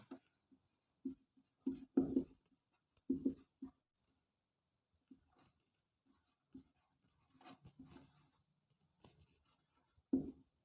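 Pen strokes on paper while noting a reason in a class 9 geometry proof, arriving as irregular scratchy bursts and taps with quiet pauses between, close and fairly clear.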